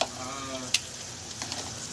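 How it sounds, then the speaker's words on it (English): Roux sizzling in a pan for Southern chicken and gravy, a quiet steady fry hiss with a sharp utensil clink near the start and faint stirring scrapes. "You want to make a roux right now? Go for it. Come on with that sizzle."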